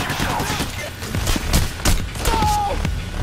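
Shotgun and other gunfire in the heist video game Payday, several loud sharp blasts amid continuous rattling fire, with players talking over the shooting.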